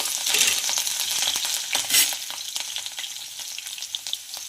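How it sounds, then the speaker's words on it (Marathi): Garlic and peanuts lightly frying in oil in a pan for crispy poha chivda, a busy crackling sizzle with scattered pops and stirring scrapes, loud and close, easing slightly toward the end. "लसूण आपला फ्राय झालेला आहे, हलकासाच फ्राय करून घ्यायचा आहे"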